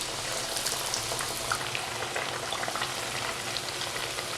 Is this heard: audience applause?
no